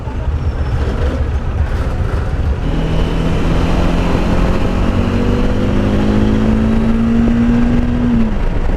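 A Bajaj Dominar motorcycle engine runs steadily nearby on its stock exhaust, droning low, with a rising whine in pitch toward the end as it revs.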